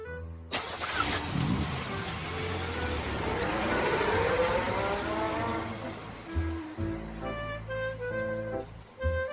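A car engine cranks and fires, then revs and pulls away with a rising, steady drone over about nine seconds, and the noise fades as the car settles into driving.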